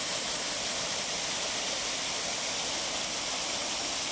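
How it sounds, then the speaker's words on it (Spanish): Water splashing in a small public park fountain in Europe where children are showering, heard as a loud, steady, broadband rush that continues without a break. "Y está la fuente en la que están duchándose ellos."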